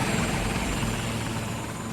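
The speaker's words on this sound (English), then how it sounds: "He's directing pilots and helicopters from Louisiana and out of state as they land on the roof of the parking garage." A helicopter's rotor chops and engine whine steadily as it lands on a parking garage rooftop during Hurricane Katrina evacuations, loud and close, with no voices.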